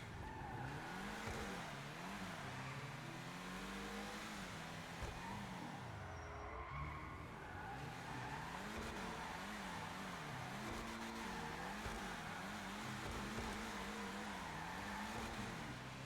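A Ubermacht Rhinehart car drifts in GTA 5 Online, its engine rising and falling steadily in pitch as the tires squeal and skid, loud and continuous for the whole stretch.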